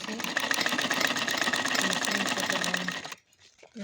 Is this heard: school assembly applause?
no